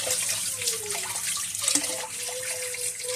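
Water runs steadily from a tap into a sink while a utensil is rinsed during banana bread prep, with a continuous close splashing flow and a brief clatter near the middle.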